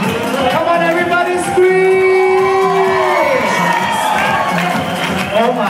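A live audience crowd screams and cheers loudly and continuously, with whoops and high shrieking voices rising together at close range.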